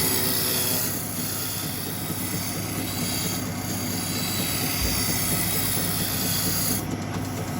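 A wood lathe spins a blank down to a cylinder, giving a steady loud broadband whirring and rough tool-cutting rasp throughout, close up and without talk.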